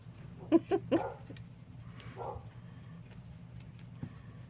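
A dog gives a few short, sharp barks close by, followed by a fainter yelp and a soft, quieter sound a few seconds later, with no talk over them.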